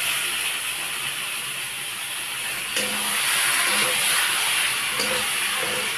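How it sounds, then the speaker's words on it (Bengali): Meat sautéing in hot oil with spices for a home-style biryani, after potatoes were fried, giving a steady loud sizzling hiss throughout with a few faint clinks and stirring noises, no talking. "তারপরে মাংসগুলো দিয়ে একটু খানিকক্ষণ কষাবো।"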